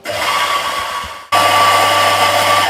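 Electric grinder whirring through Jamaican Blue Mountain coffee beans, a steady loud motor drone that briefly dips then resumes at a higher, fuller pitch as the grind continues.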